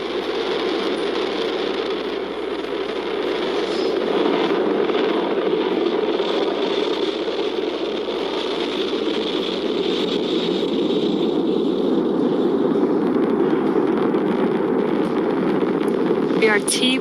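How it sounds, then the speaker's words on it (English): A SpaceX Falcon 9 rocket lifts off carrying the SphereX and Punch missions, its nine engines making a sustained, loud, broadband roar that rumbles steadily for the whole span, with a commentator's voice faintly over it. "Liftoff of the Falcon 9"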